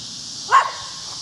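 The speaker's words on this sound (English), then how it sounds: "my daughter's dog has decided to bark at me" A dog gives a single short bark at a garden where corn is being planted, one sharp midrange yelp rising over steady outdoor hiss.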